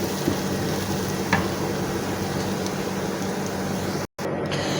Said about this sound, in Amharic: ሽንኩርቱ እንደዚህ ቀላ ሲልላችሁ ሽንኩርቱና ነጭ ሽንኩርቱ አብረው እንደዚህ መቁላላት አለባቸው።